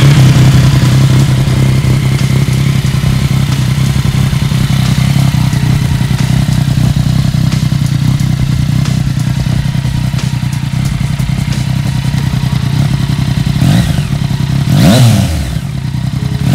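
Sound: motorcycle engine with full exhaust system revving

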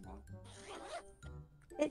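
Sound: hoodie zipper being unzipped

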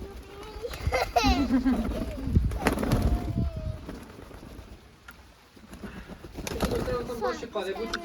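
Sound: young pigeon cooing

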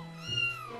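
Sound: kitten meowing in a cartoon

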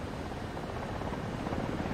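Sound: helicopter flying in War Thunder video game

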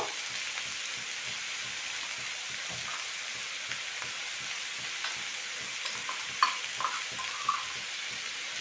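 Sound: frying and stirring with salt and turmeric powder

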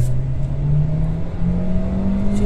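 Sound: Kia Forte car accelerating, automatic gearbox shifting

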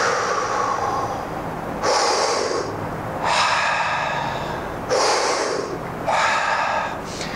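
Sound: diaphragm breathing exercise, squeezing and dumping air

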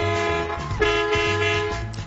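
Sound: Mack truck horn honking

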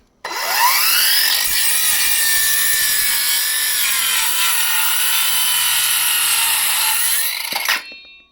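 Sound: Ronix cordless circular saw cutting an oak block

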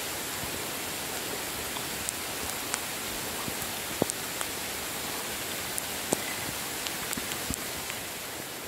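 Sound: heavy rain downpour

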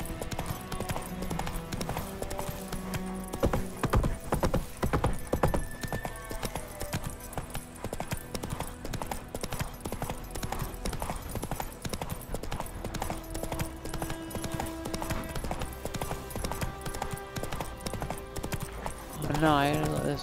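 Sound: horse galloping in The Witcher 3 video game

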